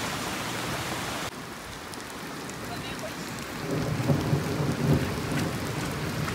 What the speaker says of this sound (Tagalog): parang hindi ka nababasa ng ulan